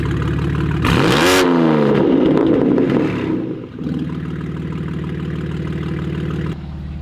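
A BMW M4 G82 with a Project Gamma exhaust snaps into one loud, rising rev that falls back to a deep, burbling idle. The engine stays close and loud the whole time, with no talking.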